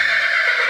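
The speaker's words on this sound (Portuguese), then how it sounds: "a égua de Andressa vai ser examinada." A mare whinnies in one short, loud, close neigh.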